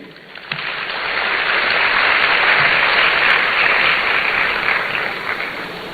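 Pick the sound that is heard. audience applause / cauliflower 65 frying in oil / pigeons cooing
audience applause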